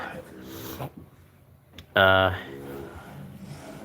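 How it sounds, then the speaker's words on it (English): A Boston Terrier growls low and close, with a sudden loud yelp-like vocal burst in the middle, while a person talks around it. "Duke is a 10-year-old Boston Terrier."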